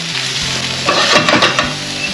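Loud, steady sizzling of sausage and potatoes frying in a pan, with a spoon stirring and scraping midway through.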